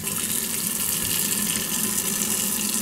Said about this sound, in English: So just rinse this off, get all the coffee off of it